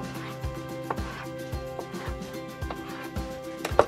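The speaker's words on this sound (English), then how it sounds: "The first thing you want to do is just slice it into pieces" A knife cuts through a block of tofu on a board in a kitchen, producing a regular series of soft, close thuds about every half second.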